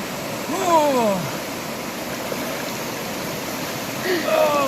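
Water of the River Severn near its source flows in a steady, close rush, with a few bird chirps over the continuous stream noise.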